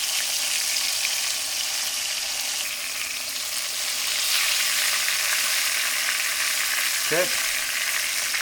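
Duck pieces dredged in flour fry crispy in a pan, a steady broadband sizzle holding throughout with a brief clink of a utensil near the end; a short word is spoken once.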